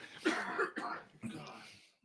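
Several rough, throaty coughs close to the microphone, a cluster of bursts with brief pauses between them, and no clear speech.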